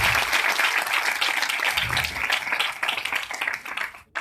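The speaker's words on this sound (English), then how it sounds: "let's have a huge round of applause to the graduating students and the proud" An audience at a business school convocation ceremony applauds the graduating students and their parents, dense sustained clapping from a large crowd filling the hall evenly and loudly before cutting off abruptly at the end.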